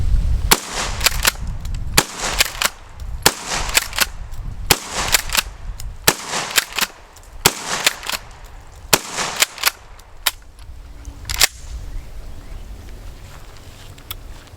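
A Mossberg 590 Thunder Ranch shotgun fires about a dozen sharp, loud blasts at an outdoor range, spaced roughly a second apart, each with a brief echoing tail, before the shooting stops.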